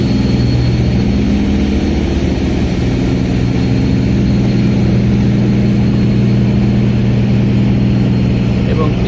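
A passenger launch on the Ilisha–Dhaka river route at night, its engine giving a loud, steady low rumbling drone that continues unbroken throughout.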